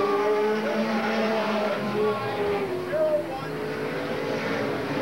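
Superstock race cars circling Eugene Speedway in a two-man main event, engines whining faintly in the distance and rising and falling as they pass, under a track announcer's commentary.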